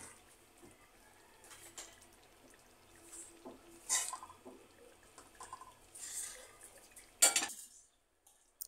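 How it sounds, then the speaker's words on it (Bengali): Chicken pieces are mixed with spices in a pan for a wedding-style chicken roast, with sporadic soft scrapes and clinks of a utensil against the pan over a quiet background. "দেখুন মশলার সাথে আমি চিকেনগুলোকে মিশিয়ে নিচ্ছি।"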